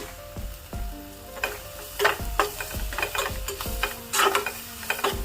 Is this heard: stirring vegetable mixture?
yes